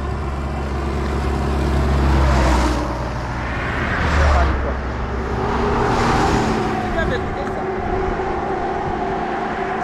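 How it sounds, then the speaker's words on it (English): Cars pass by on a road in Gabon, their engines swelling and fading in several successive whooshes at moderate distance, with people talking in the background. "The cars passing by."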